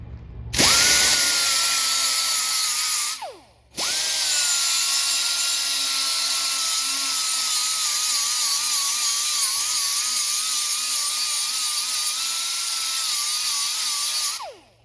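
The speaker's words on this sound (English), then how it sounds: "So let me grind on this for a little bit here." Power grinder worked on the metal plate of a Sinistar arcade control panel during restoration, a loud steady high whine that spins up, briefly stops and restarts, then runs continuously for over ten seconds before winding down.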